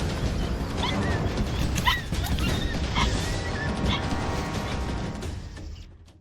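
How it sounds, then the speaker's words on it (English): A small dog cries out in a rain-soaked jungle, with brief high yelps and whimpers rising over a dense, noisy background of rain and rustling, fading at the end. "I heard one of the small dogs cry out."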